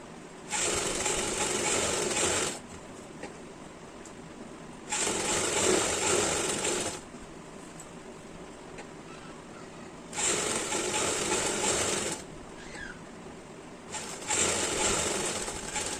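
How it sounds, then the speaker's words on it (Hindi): A sewing machine stitches an umbrella frock in four separate bursts, each a steady loud buzzing whir lasting about two seconds, with quieter background hum and handling between runs. "तो इस तरह से हम इसको सिलाई लगाते आएंगे।"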